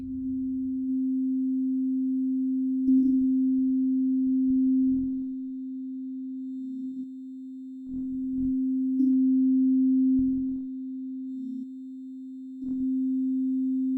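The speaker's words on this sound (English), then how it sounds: "So now we're going to play the tone and hear what it sounds like." Steady pure test tone played through VoiceMeeter audio software, a constant low hum running the whole length with brief clicks and bursts of noise interrupting it at intervals.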